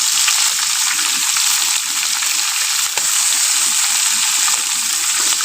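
Fish pieces frying in a pan of hot oil, a loud, dense, unbroken sizzle heard up close with a few faint stirring taps, no talking.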